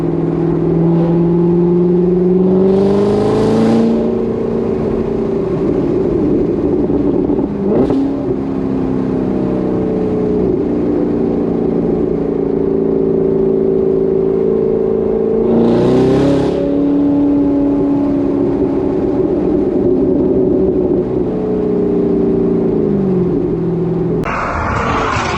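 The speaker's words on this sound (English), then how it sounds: "that's still the AWE touring exhaust with the X-pipe" A car fitted with an AWE touring exhaust and X-pipe idles with a deep exhaust rumble, then revs sharply twice, pitch climbing and dropping back each time, loud and close.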